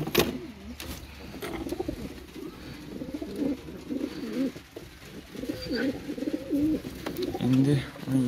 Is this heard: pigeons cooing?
yes